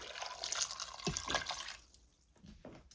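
Water poured into a cooking pot along with tomato and chicken bouillon, a faint splashing trickle that comes in a few short bursts over a couple of seconds, with no talking.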